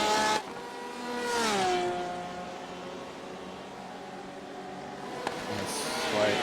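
Race cars overtaking on a racetrack in a racing game: engines whine high, drop in pitch as a car passes close, and keep droning steadily, with another car swelling up at the end.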